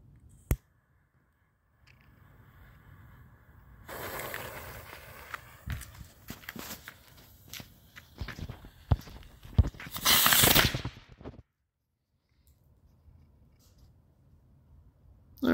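Homemade ammonium perchlorate rocket motor lighting and then failing, a crackling, sputtering stretch that peaks in a loud hissing burst before cutting off, outdoors with sharp pops scattered through.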